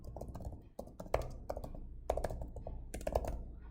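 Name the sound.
typing on a computer keyboard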